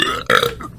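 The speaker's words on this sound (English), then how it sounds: "I'm gonna put a burp counter in the podcast. I think that's number 3." A single loud, rough burp rising mid-clip after spicy chipotle sauce, heard close and alone with no talking over it.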